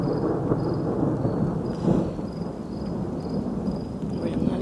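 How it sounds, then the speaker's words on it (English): Low rumbling thunder from a severe lightning storm in Dubai rolls steadily through the whole stretch, with steady rain or wind noise and a faint crickety whine running above it. "Got big bolts of lightning now going on all around me."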